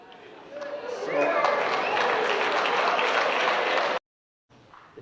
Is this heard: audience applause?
yes